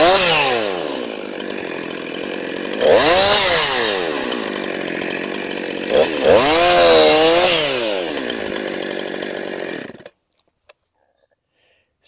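A saw cuts the trunk of a Christmas tree flush and square. It is a loud, close, whining power-tool sound that rises and falls in pitch over several strokes, then stops abruptly, leaving near silence.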